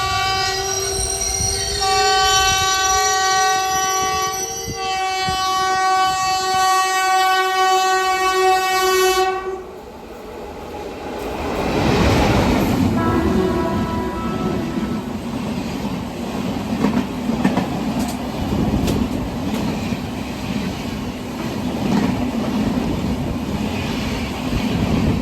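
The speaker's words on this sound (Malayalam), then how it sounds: "ട്രെയിൻ ക്രോസ് ചെയ്യുന്നുണ്ട്" A passenger train, likely Trivandrum–Chennai Central, sounds a long sustained horn, then rumbles past close by with squealing wheels and a continuous rolling clatter that holds loud to the end.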